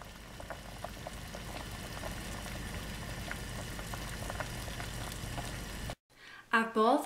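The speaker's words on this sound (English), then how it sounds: "we will bring this to a boil and we'll boil it for 5 minutes" Russian tea of citrus rinds, spices, sugar and water boils in a pot, a steady bubbling that runs for about six seconds before cutting off as a voice begins.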